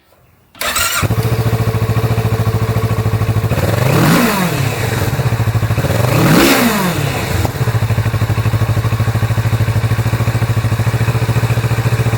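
A 2017 Kawasaki Z650 motorcycle engine with aftermarket exhaust starts up and idles loudly nearby, with two sharp throttle revs rising and falling before settling back to a steady idle.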